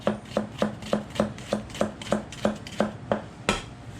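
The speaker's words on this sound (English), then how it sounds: "Start by chopping up the shallot." A knife chops a shallot rhythmically on a cutting board, about a dozen even, crisp strokes at a steady pace, close and clear.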